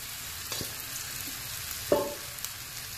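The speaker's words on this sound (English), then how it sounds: "you want to fry your rice up really good. You want it to be like toasty brown." Rice fries in a pan until toasty brown for coconut cilantro lime rice, giving a soft, steady sizzle. A couple of light stirring scrapes break in, quiet and close.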